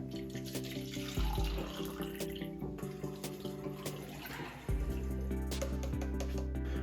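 Water runs steadily into a container with a gurgling, filling sound and a low hum beneath, close by, shifting tone partway through, as water is added to home cider making.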